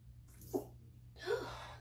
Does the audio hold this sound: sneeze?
yes